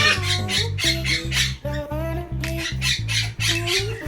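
Parrots squawk in a pet shop, a dense run of harsh, loud, rapid screeches close by over a pulsing low hum of background noise.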